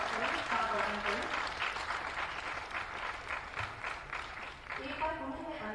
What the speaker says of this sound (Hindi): जोरदार तालियों से सभी का स्वागत करें, स्वागत करें